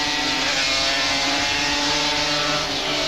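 Honda and Yamaha 250cc twin-cylinder two-stroke racing motorcycles in a 1987 Grand Prix race at Lakeside Raceway, a loud, continuous high-revving engine wail with a steady pitch and no voices.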